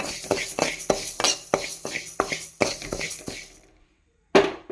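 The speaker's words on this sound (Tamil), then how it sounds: "இதை வந்து கொஞ்சம் சிம்லே வச்சு கொஞ்சம் நல்லா வறுத்துக்கலாம்" Moong dal dry-roasting in a pan on low flame, stirred with a metal spoon: a quick run of about a dozen sharp scraping clinks in a steady rhythm, a short pause, then one last clink.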